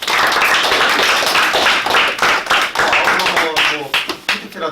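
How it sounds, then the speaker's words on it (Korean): A classroom of students claps for their teacher, a lively round of fairly close hand claps with some sharp individual slaps standing out, thinning toward the end. "우리 수고한 조연원 선생님께 박수 한번"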